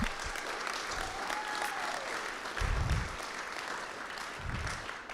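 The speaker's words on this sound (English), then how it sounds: "big round of applause for all the finalists" An audience at a demo and awards night claps in a steady, fairly faint wash of applause for the finalists, with a few low thumps underneath.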